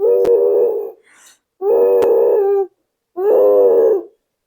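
A dog makes three drawn-out, tonal growling vocalizations, each lasting under a second with short silences between them. The sound is close and loud.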